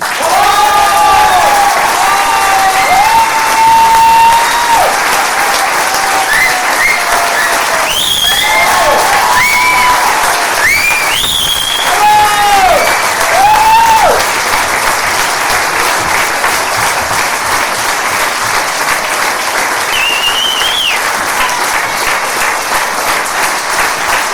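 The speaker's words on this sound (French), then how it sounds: "Je vous demande d'applaudir très très fort Madeleine" A theatre audience applauds long and steadily for a young actress making her stage debut, with a few voices and whistles rising above the dense clapping.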